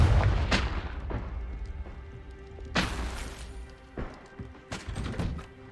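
Confringo fire spell blasts from the video game Hogwarts Legacy land as several booming, thudding impacts with rumbling tails, spread unevenly over a few seconds.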